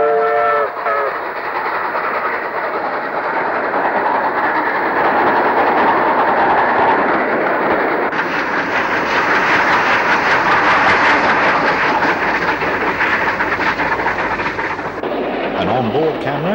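Steam locomotive 4498 Sir Nigel Gresley hauls a railtour up a steep grade, giving a dense, continuous roar of exhaust and rolling train noise, close and loud, with a short whistle near the start.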